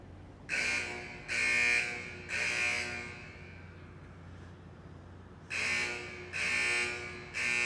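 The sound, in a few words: alarm sounding from a garage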